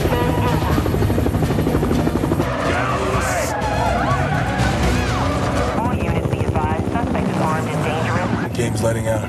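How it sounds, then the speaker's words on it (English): Helicopter thundering overhead in a film chase scene through crowded city streets, loud continuous rotor chop over engine noise and tense dialogue, with voices speaking throughout. "The chopper! It's on us!"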